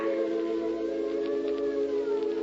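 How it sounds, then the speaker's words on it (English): An ambulance siren used as a radio drama sound effect sounds out as a steady, continuous electronic wail with layered tones, holding level for the whole stretch with no voices over it. "Look, George, it's an ambulance."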